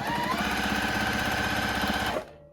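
A sewing machine quilting a fabric zipper pouch, its needle hammering in a fast, steady close rattle that cuts off abruptly near the end.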